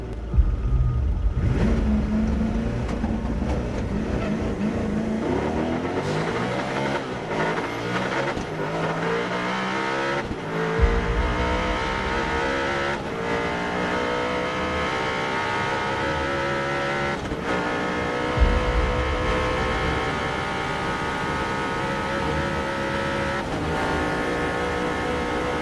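A Koenigsegg Agera RS supercar engine revs hard through repeated rising accelerations and gear changes, loud and sustained for about twenty-five seconds with no talk.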